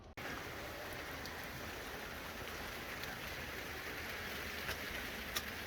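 Steady rain falling in Trieste, Italy, a dense even hiss of drops on surfaces with a few sharper splashes, close and continuous throughout.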